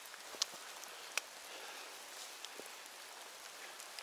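Rain falls in a forest on a mushroom-picking outing, a soft, even patter close by with a few sharper drips standing out, and no voices.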